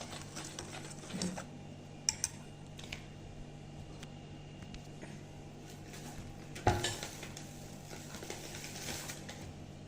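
Flour batter with a pinch of salt mixed in a bowl for patishapta pitha, with scattered clinks of a utensil against the bowl and soft scraping over low background hum, one sharper knock near the end.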